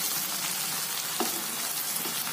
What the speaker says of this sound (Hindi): अभी डालेंगे मटर तो ये अच्छे से गलेगा, इसलिए इस पैन पे डालना बहुत ज़रूरी है